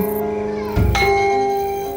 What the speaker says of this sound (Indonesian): Suara familiar dengan tabuhan kendang dan gong. Diikuti suara kenong, kompiang, membaur menjadi alunan suara gamelan.